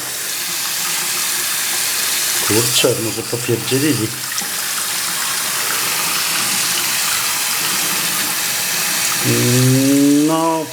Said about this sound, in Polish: No słabo z tą wodą gorącą jest. Na razie leci sama zimna.